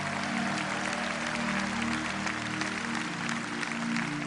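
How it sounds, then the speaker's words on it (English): Sustained, dense clapping from a large church audience, loud and continuous throughout, with no voices standing out. "Come on, clap loud."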